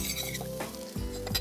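Parsley stirred into green sauce in a pan, off the heat, with clams, makes soft close scraping and clinking of utensil against pan over a low sizzle.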